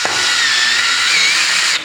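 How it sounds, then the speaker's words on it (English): A power driver runs screws into ductwork in a Victorian house, one loud, steady high whine held close for nearly two seconds before cutting off, with no talking. "Putting in screws."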